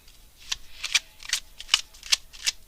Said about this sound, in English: you saw me shuffle the cards